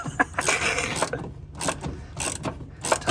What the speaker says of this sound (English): Tightens a bolt, tightens a bolt.